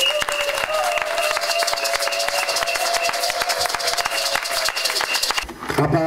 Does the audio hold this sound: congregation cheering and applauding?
yes